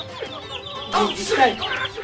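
Chickens cluck close by in short, bursting calls, with a faint voice in the background.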